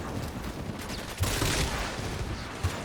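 Purgator 1 gun in the game Warframe firing, a dense rush of rapid shots with a couple of sharper bursts standing out, loud and continuous, no voices.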